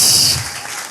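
A church congregation breaking into applause and ululation, a loud burst of clapping with a shrill trilling edge that fades quickly within a second.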